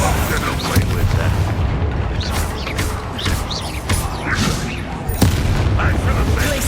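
Bombarda explosion spells and combat booms in Hogwarts Legacy, a busy stream of blasts and impacts over a dense battle bed, with a voice speaking amid the noise.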